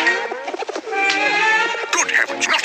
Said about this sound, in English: Good heavens, not a real pigeon.